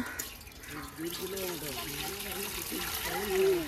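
Water trickles and pours steadily into a handa pot on a farm, a continuous splashing stream with a faint rising tone as it fills, voices murmuring in the background.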